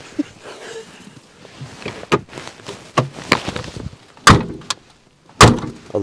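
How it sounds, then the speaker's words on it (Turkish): A frozen car door at a -19 degree snow camp is pushed and fails to latch, giving several sharp thuds and knocks against faint background voices and rustling. "Al işte, kapı kapanmıyor."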